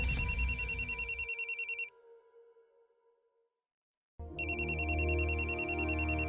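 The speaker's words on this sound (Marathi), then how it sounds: "मितूचा फोन" A telephone rings in a home scene, with loud electronic ringtone bursts repeating in a quick pulsing pattern, then a silent pause, then ringing again.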